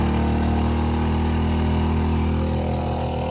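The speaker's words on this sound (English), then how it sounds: "it's revving up because it's charging this thing." An AiVolt 1600 AGen1600c portable generator engine runs loud and steady while charging a device, a constant droning hum with a rough, buzzing throb and no pauses.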